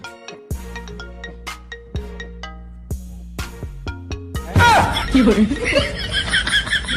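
A phone ringtone plays a series of bright electronic chime notes, then laughter and chuckling break in over the end.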